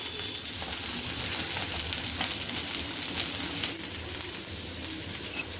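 A rice flour ghavan pancake cooking on a hot pan makes a continuous soft sizzle and crackle, steady and close with no talking.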